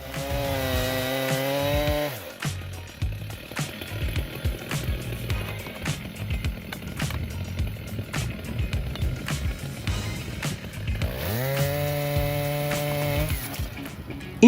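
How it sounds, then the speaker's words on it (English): A Stihl 90 chainsaw cuts through a giant tree trunk, the engine screaming at high revs at the start and again near the end, with a steady loud bogged-down cutting drone and scattered knocks throughout. "this style 90 chainsaw is a force of nature, conquering giant tree trunks with unparalleled power"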